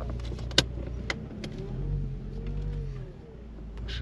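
Power steering on a Volkswagen Golf IV whines, a thin, wavering tone that rises and falls over a low engine idle, with a couple of sharp clicks early on and faint background noise.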